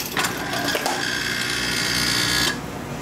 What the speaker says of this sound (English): I've put some of that ink across here so that the squeegee will hit it, and we're going to go ahead and run a test print now